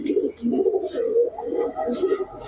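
Giribaz pigeons coo close by in low, throaty, rolling phrases that repeat almost without a break, with faint background voices.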